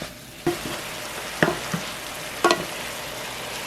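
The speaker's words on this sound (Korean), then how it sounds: "살짝 달궈진 팬에 다진 고기 3컵 넣었어요" Ground meat fries in a lightly preheated pan with a continuous sizzle. Three sharp stirring clacks and scrapes break through it at intervals, close and clear.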